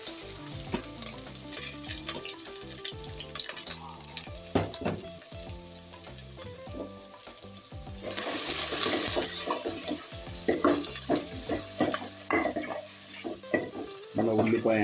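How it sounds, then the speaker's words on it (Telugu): Onions with green chillies fry in oil for a spicy chicken curry, a steady crackling sizzle broken by frequent clinks and scrapes of stirring, continuous and fairly close with no talk. "మన ఉల్లిపాయ అనేది గోల్డెన్ కలర్ వచ్చే వరకు మంచిగా నూనెలో వేయించుకోవాలి ఫ్రెండ్స్"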